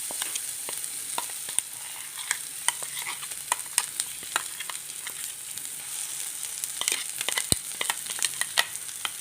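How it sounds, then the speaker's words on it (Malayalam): Masala with onion, garlic and green chili sizzles steadily in a pan while a spoon stirs through it, giving repeated sharp scraping clicks over a continuous frying hiss, close and clear with no talking. "ഇനി ചെറു തീയിൽ വെച്ച് ഒന്ന് ഇളക്കി മൂപ്പിച്ചെടുക്കുക"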